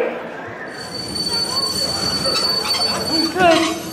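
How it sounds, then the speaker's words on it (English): Train wheels squeal and rumble on rails in a Polar Express sound effect, a loud continuous grinding screech with a high metallic whine and a clattering swell near the end. "The Polar Express is back and running."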